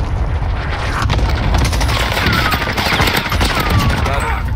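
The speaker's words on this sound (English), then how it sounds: "Enemy cluster strike incoming." Cluster strike explosions in Call of Duty Warzone, a loud, dense barrage of overlapping booms and crackling blasts that rolls on without pause and fills the whole stretch, with no speech over it.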